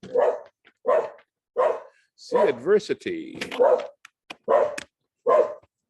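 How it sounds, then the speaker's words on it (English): A dog barks repeatedly in evenly spaced bursts, fairly close, while a person speaks briefly in the middle between barks. "If you can hear the dog barking"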